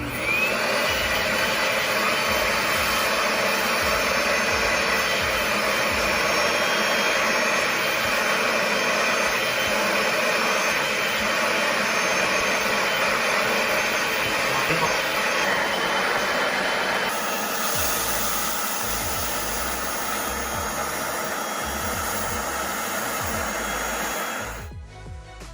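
A Bissell Little Green vacuum cleaner runs continuously with a loud, steady motor whine and suction roar for most of the stretch; the tone shifts partway through, then it cuts off abruptly at the end.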